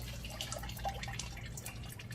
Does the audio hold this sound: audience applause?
no